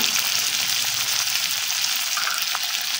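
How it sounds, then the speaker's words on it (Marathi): Finely chopped tomato frying with onion in a pan for stuffed bhindi, a dense, steady close sizzle with faint stirring, no voices. "त्यात आपण एक टोमॅटो बारीक चिरलेला टाकून घेऊ."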